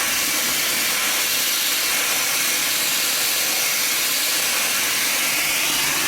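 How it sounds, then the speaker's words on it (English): Water gushes from a tap at full force during a saltwater aquarium water change, a steady broadband hiss and rush that holds evenly for several seconds with no voices. "what we do now is I turn on this faucet at full blast"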